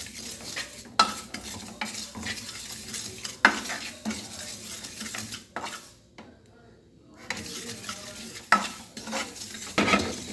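Anise seeds are toasted and stirred in a pan, giving a soft, close dry scraping and light sizzle, with occasional sharper clinks of utensil against pan and a short quiet gap.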